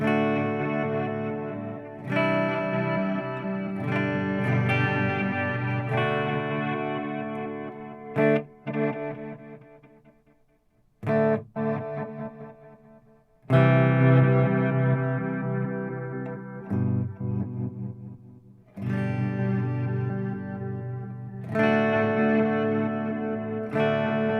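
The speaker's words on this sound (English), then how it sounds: "The second one is reverse echo." An electric guitar plays through the reverse echo setting of an Oceans 12 dual stereo reverb pedal. Sustained chords swell in, then cut off abruptly, with a few brief gaps and short stabs between longer washes of sound.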